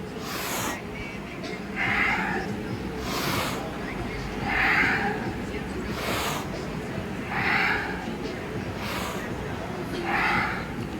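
Deep yoga breathing, with slow, regular inhales and exhales audible as airy rushes about every second and a half, while an instructor's voice talks throughout.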